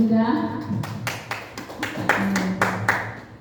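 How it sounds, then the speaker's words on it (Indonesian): Teachers at a school workshop on positive culture clap for a presenter, a loose run of sharp, distinct hand claps over lingering voices and some talk. "Oke, tepuk tangan buat Bu Indra"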